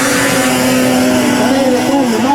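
A red snowmobile races uphill at full throttle at a 2003 Taipalsaari snowmobile race, its engine a loud, steady high-revving drone that rises slightly in pitch, with a commentator talking over it.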